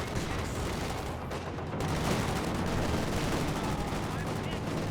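Continuous gunfire from a large-scale battle in Company of Heroes 2, dense overlapping bursts and shots at steady loudness throughout, with a voice talking over parts of it.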